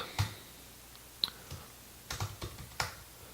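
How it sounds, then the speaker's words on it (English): Sparse, quiet key clicks from typing text on a computer keyboard, a few isolated taps followed by a short burst of keystrokes, close and clear in an otherwise quiet room. "I will type out"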